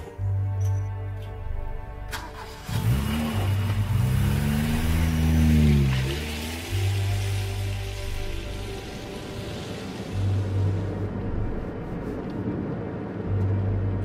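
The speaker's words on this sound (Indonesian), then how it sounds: "Aku fokus menyetir untuk cepat sampai di Bandung." Car interior on an Indonesian road at night heading toward Bandung, the engine humming and rising as it accelerates, with a steady rain-like road hiss and low rumble throughout.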